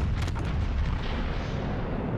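A naval gun salvo booms out in the video game World of Warships Legends, a Yamato battleship firing: a heavy, rumbling blast that rolls on with a long low roar and no talking.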